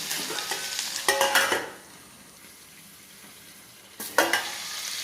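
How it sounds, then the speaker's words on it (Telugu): Ginger garlic paste frying with cauliflower pieces in a pan, a sizzling hiss broken by bursts of stirring scrapes near the start and again near the end, quieter in between, with no voices. "అల్లం వెల్లుల్లిపాయ పేస్ట్ అండి. ఇది కూడా బాగా ఫ్రై చేసుకోవాలి."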